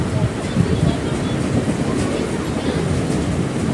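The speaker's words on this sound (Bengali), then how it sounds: "দেখো আমাদের ট্রেন চলে এসছে এবার আমরা ট্রেনে উঠে পড়ব" A train pulling into a station on the line toward Joychandi Pahar, heard as a loud, steady, close rumble of rolling wheels and carriages that fills the whole stretch.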